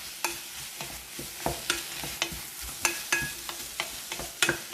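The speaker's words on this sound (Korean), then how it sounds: "감자를 넣어서 볶아주시는데" Diced potatoes sautéed in butter in a pot, with a spoon stirring and scraping at an even, repeated rhythm over a soft, constant sizzle; close and fairly quiet.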